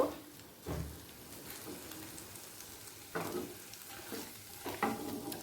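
Paneer frying lightly in oil in a pan gives a faint, steady sizzle with several soft scraping bursts from stirring or turning the pieces.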